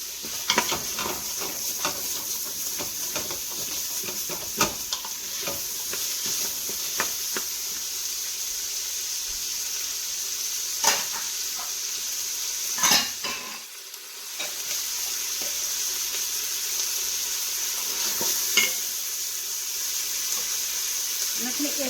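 Chopped celery stirred into an Instant Pot with chicken and garlic and onion powder, a soft steady sizzle with repeated scraping clicks of a spoon against the pot, fairly close, and a brief pause midway.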